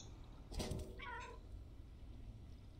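A cat in the video game Stray gives a single clear meow followed by a shorter chirping mew, both close and fairly quiet over faint background hum.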